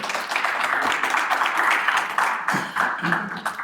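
A studio audience claps at the close of a French dating game show, a dense burst of applause, fairly loud and close, thinning slightly toward the end with uneven patters of individual hands.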